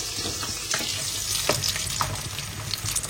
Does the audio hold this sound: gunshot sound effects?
no